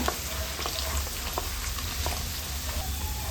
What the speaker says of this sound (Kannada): ಒಂದು 10 ಗೋಡಂಬಿನ ಹಾಕ್ಕೊಂಡು ಚೆನ್ನಾಗಿ ಫ್ರೈ ಮಾಡ್ಕೊಳ್ಳೋಣ